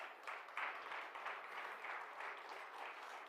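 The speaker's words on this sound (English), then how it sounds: "Please give a warm round of applause to our Deputy Minister of Finance" A crowd at a grants handover ceremony applauds the Deputy Minister of Finance with steady, even clapping that holds at a constant level throughout, heard from some distance.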